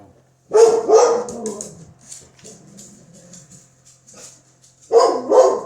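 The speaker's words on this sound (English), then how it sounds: "he barks at shadows, barks at strange noises or glistening lights" A dog barks loudly nearby in two bursts separated by a quieter stretch of softer whines and yips.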